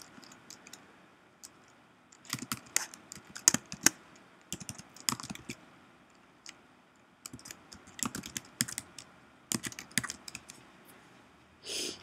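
Someone types a web link on a computer keyboard while editing content in a CMS, close, quiet clicky keystrokes in short irregular bursts separated by pauses, no talk.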